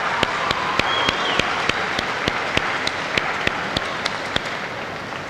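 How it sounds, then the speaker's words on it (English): Audience applause for two graduating students at a Port Huron High School commencement: a steady roomful of clapping with one loud, close clapper beating out an even rhythm above the crowd, and no speech. "Let's give these two students another round of applause."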